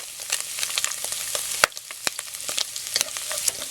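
Garlic sizzles in hot oil with dense, steady frying crackle and sharp spatters, plus a few louder clinks of a utensil against the pan, close and without speech.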